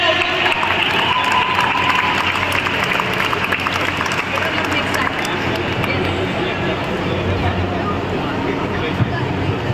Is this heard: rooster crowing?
no